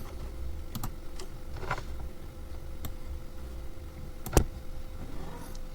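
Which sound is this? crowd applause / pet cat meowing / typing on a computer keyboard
typing on a computer keyboard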